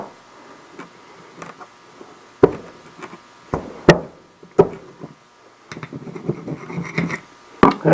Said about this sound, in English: What you want to do is just kind of give it a tap, and it should just come out.